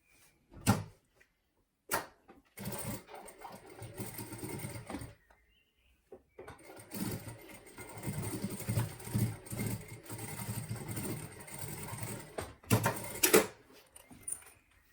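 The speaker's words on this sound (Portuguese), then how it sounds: "vou chegar com o fole, frente com frente, e vou passar uma costura de mais ou menos 1 centímetro" A sewing machine runs a roughly 1 cm seam through backpack fabric, starting with a few short bursts, then longer steady whirring runs of stitching with brief pauses between them, close and fairly loud.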